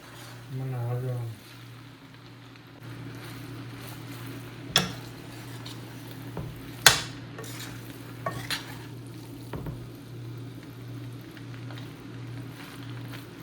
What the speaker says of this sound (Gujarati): નૂડલ્સને મિક્સ કરી દઈએ.